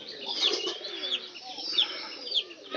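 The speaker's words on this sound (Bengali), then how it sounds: "ওই যে ওই পায়রাটা উপরের" A pigeon perched up high coos softly with a few short chirpy calls, fairly close, against a quiet background and with no talk over it.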